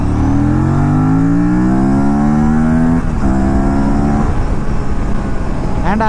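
An Aprilia RS 457 motorcycle is ridden close by, its engine rising steadily in pitch through the gears, then dipping and climbing again, loud and continuous.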